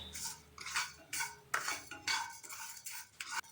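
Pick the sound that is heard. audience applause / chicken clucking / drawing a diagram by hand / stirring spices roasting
stirring spices roasting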